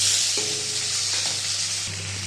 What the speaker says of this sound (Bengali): ফার্স্টে পাঁচফোড়ন দিয়ে দিলাম রসুন একদম হালকা মশলা দিয়ে করবো একটুখানি পেঁয়াজ আর টমেটো